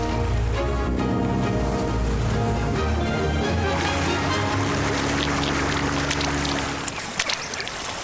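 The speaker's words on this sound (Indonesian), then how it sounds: "Kapal pemancingnya ketemu, Tintin" Cartoon fishing boat moving across water, a steady rushing, splashing wash with a low motor-like drone that stays loud throughout, thinning near the end.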